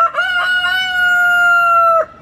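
A rooster crows once, loud and close, a sustained cock-a-doodle-doo lasting about two seconds that cuts off sharply, with no talking.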